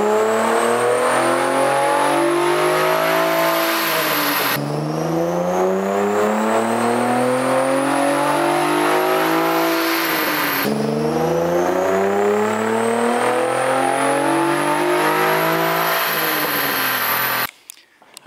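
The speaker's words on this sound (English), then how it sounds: "Go ahead and make our dyno pulls right about now." A Nissan 350Z with a new intake manifold revs on a dyno, its engine note climbing steadily through two long, loud full-throttle pulls, each ending in a sudden drop, before falling quiet at the end.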